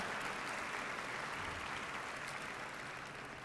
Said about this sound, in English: Let's give all of our families a big round of applause.